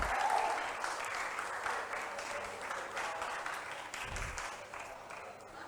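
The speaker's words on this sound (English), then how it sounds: "Let's clap for them." An academy audience claps for quiz contestants after the final riddle, a steady moderate round of applause from a crowd, somewhat distant and even throughout.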